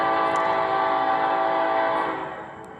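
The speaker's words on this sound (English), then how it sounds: "There's a train coming." A freight train heading north approaches with its horn blaring, a loud, sustained, steady blast that holds for a couple of seconds before easing off toward the end.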